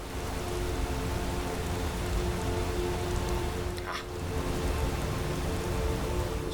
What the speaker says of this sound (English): This rain feels good.